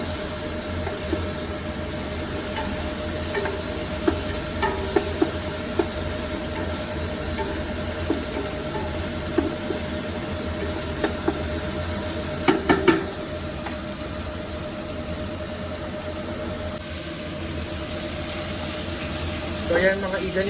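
Chicken and tomatoes frying in a pan for chicken afritada, a steady close sizzle with occasional clinks of stirring throughout.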